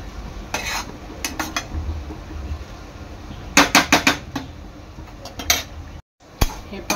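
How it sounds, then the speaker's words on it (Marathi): Coconut sweet rice with saffron water being stirred in a pot: a spoon scrapes and clinks against the metal in short bursts, with a cluster of quick knocks midway and a last sharp tap near the end, over quiet background hiss. "चांगलं मिक्स करून घ्यायचं आहे"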